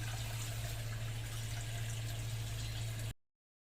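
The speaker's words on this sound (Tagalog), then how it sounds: "Ito na, kumukulo na." Steady rushing, bubbling noise of miso sinigang soup boiling in a pot with a low hum underneath, continuous for about three seconds before cutting off abruptly.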